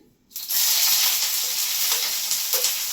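Spring onions drop into a hot, oiled frying pan on a three-burner gas hob while fried rice is being made. A sudden loud sizzle breaks out after a brief quiet and keeps crackling steadily, with soft stirring clicks.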